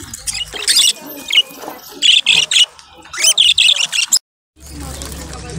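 Budgerigars for sale at a market fair give bursts of shrill squawks and chirps, lively and close, with brief pauses and background market noise.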